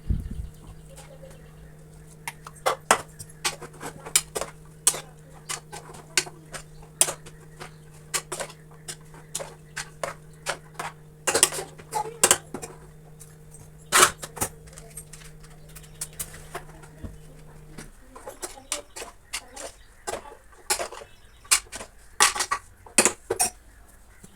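Ground coconut being stirred in a cooking pan, with repeated scraping and clinking of a spoon against the metal beside a low steady hum, continuing alone with no talk.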